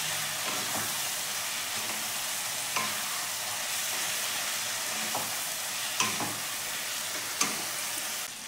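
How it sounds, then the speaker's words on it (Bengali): Chicken pieces being stirred into frying masala for Afghani chicken curry, a dense continuous hiss and sizzle with occasional spoon scrapes and knocks against the pan. "এবারে যে চিকেনগুলো রেখেছি সেই চিকেনগুলো এসে মশলার সাথে দিয়ে দিলাম, দিয়ে তারপর এর সাথে ভালো করে মিশিয়ে নিচ্ছি।"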